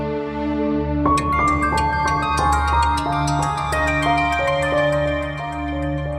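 A melodic electronic tune plays steadily with distinct repeating notes over a sustained tone, like a phone ringtone, clear and fairly close.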